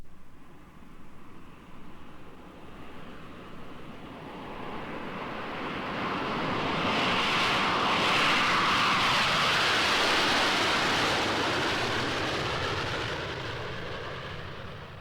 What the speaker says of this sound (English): Here, for example, is the sound of a jet passing overhead as you might hear it on the radio or on television.